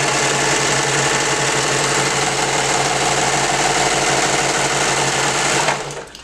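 A home sewing machine runs steadily in a kitchen while stitching a summer romper, a continuous close mechanical whir of needle strokes that stops abruptly near the end.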